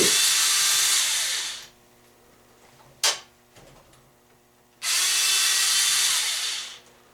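A power screwdriver whirs in two long, loud bursts, with a brief spin in between, as it backs out turn signal switch screws on a Ford Mustang at close range, with no talk.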